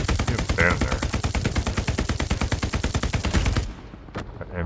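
Machine gun fire in the video game Hell Let Loose, a loud, rapid sustained burst of rounds at close range that cuts off abruptly and is followed by one more distant shot.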